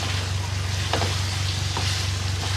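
Chicken pieces sizzling steadily in hot oil with masala, browning for achar gosht karahi, a constant close frying hiss with a few soft stirring scrapes and a low hum underneath.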